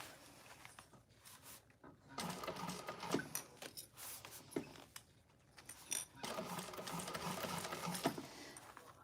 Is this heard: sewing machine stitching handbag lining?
yes